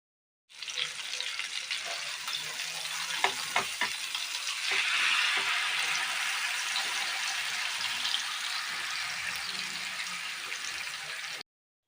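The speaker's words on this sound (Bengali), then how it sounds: "এই পিঠটা ভালো করে ভাজা হয়ে গেলে উল্টে দেব" Rupchanda pomfret fish frying in oil in a pan, with a few sharp utensil clicks early on, then a steady loud sizzle that holds to the end.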